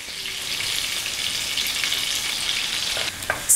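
Floured beef pieces sizzle steadily in melted butter in a pan for stroganoff, a close, constant frying hiss with a few light stirring knocks near the end.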